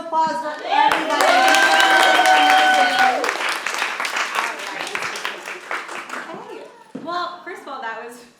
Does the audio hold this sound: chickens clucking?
no